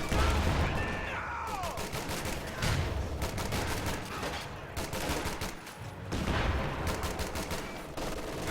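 Light machine gun fire rattles through a Company of Heroes battle in rapid repeated bursts and sustained volleys, mixed with other weapon reports and explosions in a busy, loud soundscape.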